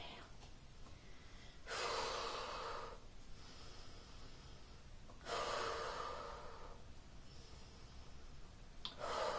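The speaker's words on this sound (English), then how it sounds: "Some nice belly breathing." Slow, audible breaths during a Pilates exercise focused on belly breathing, with two long, loud exhales separated by quieter intervals and a faint voice underneath.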